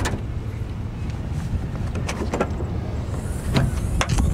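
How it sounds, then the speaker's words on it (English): An electric motor folds the power-retractable third-row seats of a 2008 Mercury Mountaineer Premier AWD, giving a steady whirring hum at close range with a few light clicks and a brief thump near the end. "They fold down by pushing a button, power retractable"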